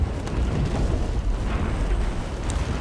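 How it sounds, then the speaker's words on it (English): A siege weapon blast in Elden Ring: a dense, rumbling boom that fills the whole stretch, loud and sustained with low roaring energy and scattered crackles, no voices. "Oh, it's a damn siege weapon."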